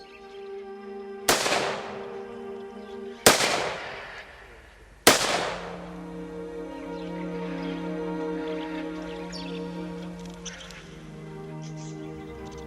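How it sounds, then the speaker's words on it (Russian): An honor guard fires a rifle salute into the air for fallen soldiers at the Sanchar Pass: three loud, sharp volleys roughly two seconds apart, each ringing off into echo, then a quiet tonal ambience. "почетный караул салютовал в воздух в честь погибших героев"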